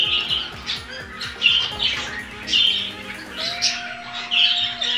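African lovebirds give sharp, repeated squawks and chirps in quick bursts, loud and close, with a faint steady tone in the background.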